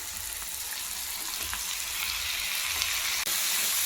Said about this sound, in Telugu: కట్ చేసి పెట్టుకున్న టమాటా పీసెస్ని అయితే అందులో మిక్స్ చేసుకోవాలి.